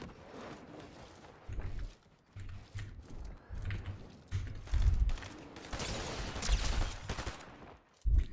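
Fortnite SMG fire comes in several rapid bursts of varying loudness, mixed with mechanical clicks and game effects, with one last sharp burst at the end.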